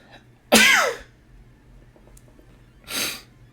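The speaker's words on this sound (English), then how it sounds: "I'm gonna sneeze." A person sneezes once, sharp and close, followed a couple of seconds later by a softer breathy snort or sniff in an otherwise quiet room.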